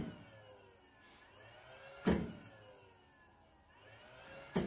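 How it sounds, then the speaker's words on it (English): A laser power supply's cooling fan whirs faintly in a quiet room, its load-dependent pitch sweeping up and down, with two sharp knocks from nearby stepper-driven machinery. "Listen to the load-dependent power supply fan."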